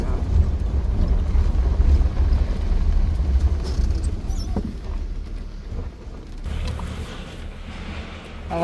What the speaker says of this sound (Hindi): आवाज़ करते हुए जाएगा ट्रैक्टर ना,